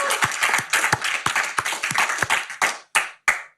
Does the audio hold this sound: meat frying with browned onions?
no